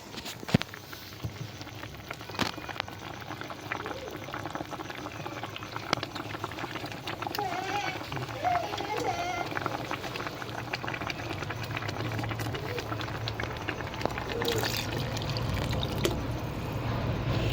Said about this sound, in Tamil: இந்த நேரத்தில் கரைச்சி வச்சுருக்க புளியை ஊற்றிக்கணும்.